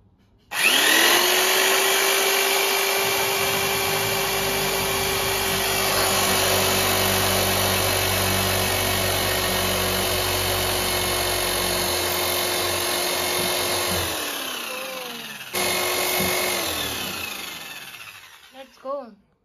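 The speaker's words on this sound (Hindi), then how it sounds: "अब हम यूज़ कर रहे हैं ड्रिल का, सीधा ड्रिल मार देंगे यहाँ पर, सुराख कर देंगे" A power drill bores a hole to mount a homemade sim racing handbrake, running at a steady high whine for about fourteen seconds, then briefly restarting and winding down, loud and close.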